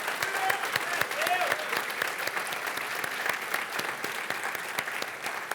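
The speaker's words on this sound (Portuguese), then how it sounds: "Vamos dar uma salva de palmas para Jesus" Worshippers in a church service break into sustained clapping for Jesus, a thick, continuous patter of many hands at steady loudness, with faint voices mixed in beneath the applause.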